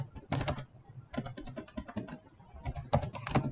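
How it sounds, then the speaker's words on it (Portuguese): Code is typed on a computer keyboard in three quick bursts of close, crisp key clicks, separated by short pauses. "eu vou digitar"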